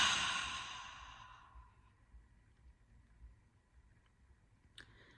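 A single slow, deliberate exhale, soft and close, fading gradually over a couple of seconds into quiet room tone.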